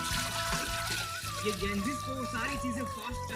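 Water is poured into a pot of rice set on a gas stove, a steady splashing trickle heard under people talking and background music.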